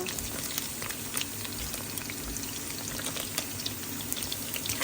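Garlic and pork sizzling in a pan for pork curry, a continuous soft crackling fry with scattered pops, fairly quiet and without talking.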